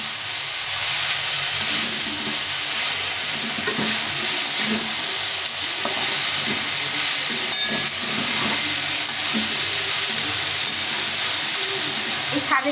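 Tender leafy greens freshly picked from a rooftop garden hiss and sizzle loudly in a hot pan as they are stirred, a dense, steady frying noise with occasional light scrapes throughout.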